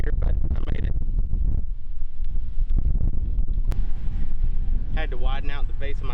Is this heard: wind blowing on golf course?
yes